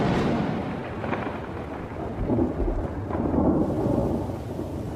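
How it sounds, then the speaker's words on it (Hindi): A thunderstorm rolls in over Kakadu as the rains arrive, deep continuous rumbling thunder over a steady wash of heavy rain, loud and unbroken, with no voices. "आसमान में काले बादल दिखाई देने लगे हैं। बरसात आ चुकी है।"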